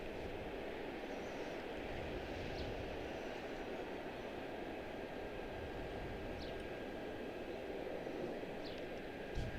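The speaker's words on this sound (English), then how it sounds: "So we have an A321-231 to Fort Myers. That is American Airlines 2704." An American Airlines Airbus A321-231 airliner with a 17-year-old airframe, bound for Fort Myers at Charlotte-Douglas International Airport, produces a steady, fairly faint jet engine rumble and roar that holds constant throughout, with no talk.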